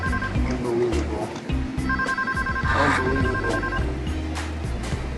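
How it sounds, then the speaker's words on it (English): A telephone rings in short repeated electronic trills under a busy mix of voices and background noise, with someone speaking over it. "So I get a call"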